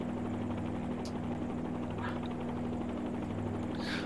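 A Robinson R22 or R44 light helicopter drones steadily and close throughout, its engine and rotor hum constant without any break.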